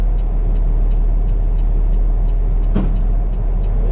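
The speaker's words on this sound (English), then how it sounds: "another truck pulling up right beside me here at the same time" Truck pulling up close alongside, a loud steady low engine rumble with a brief hiss or squeal near the end, no voices.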